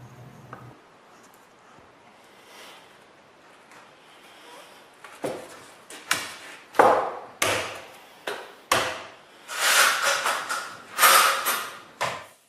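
Wooden piece for a folding shelf being cut and mortised with a chisel on a workbench, giving a string of sharp, close knocks and chops that start sparse and grow louder and faster toward the end, with no talking.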